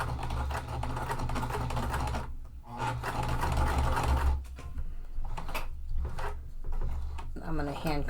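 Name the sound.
sewing machine stitching a wallet, hand cranked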